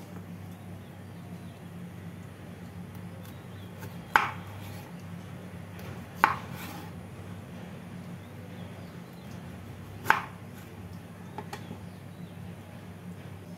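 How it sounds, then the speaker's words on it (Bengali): A knife cuts teasel gourd into pieces on a board: three or four faint, sharp chops spaced a few seconds apart over a quiet, low room hum. "এবার কাঁকরোলের দুই দিকটা কেটে নিয়ে মাঝখানটা টুকরো করে নেব।"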